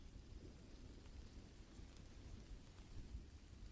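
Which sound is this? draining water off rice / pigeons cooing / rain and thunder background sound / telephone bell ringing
rain and thunder background sound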